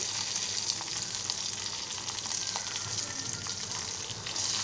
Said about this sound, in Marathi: कढीपत्त्याची मी दोन पानं घालत आहे